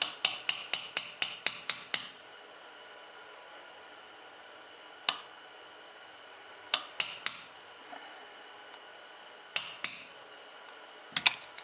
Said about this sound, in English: Take my hammer, give it a whack there, got it seated, and now we're just going to tap it home.